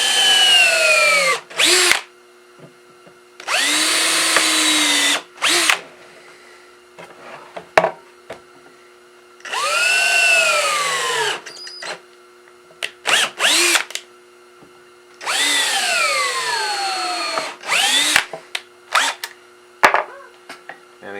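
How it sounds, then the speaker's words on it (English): A power drill bores pilot holes for square-head screws in wood while bracing a guitar neck and box, with several loud whirring bursts that rise and fall in pitch, separated by pauses and small handling clicks. "Now I'll take my drill."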